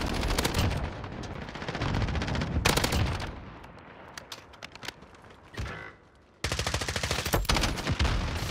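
Rapid gunfire from the Modern Warfare first-person shooter, using several weapons in a close firefight with the RAM-7 rifle. Dense bursts and single shots pound almost nonstop and loud, pause briefly near the end, then a hard burst resumes.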